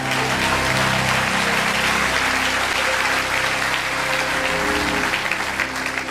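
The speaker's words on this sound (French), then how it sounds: "Acclame, acclame, acclame, acclame, acclame." A church congregation claps and cheers in steady, dense applause that fills the whole clip, loud and continuous with crowd voices mixed in.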